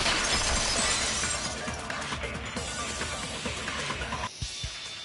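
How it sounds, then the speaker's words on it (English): Window glass shattering in the video game Danganronpa 2, a loud, dense crash of breaking glass that fills most of the clip, tapering into scattered tinkling shards before a brief near-silence and a final clatter. "heard the sound of the window shattering"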